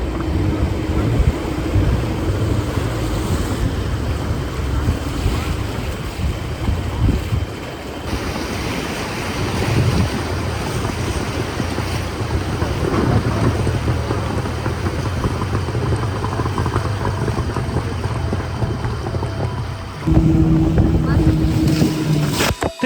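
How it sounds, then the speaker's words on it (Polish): A motorboat punches through river rapids in the jungle of Taman Negara, waves crashing and water splashing aboard over a steady engine drone with wind buffeting, while passengers call out and a loud surge hits near the end. "Płyniemy z falą przez takie progi wodne, to woda wlewa się na łódź."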